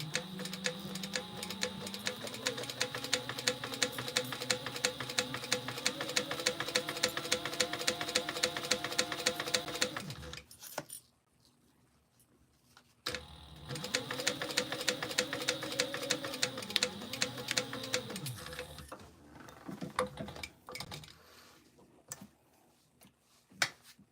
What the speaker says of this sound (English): And I'm just going to stay stitch this in place.